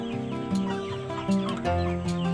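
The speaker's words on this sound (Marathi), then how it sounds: "हा कोंबडा बघा कसा मस्त या भुशामध्ये लोळतो आहे" A rooster rolls about in dry rice husk on a village poultry farm in Konkan, giving a few short clucks and throaty calls over a steady, close background hum.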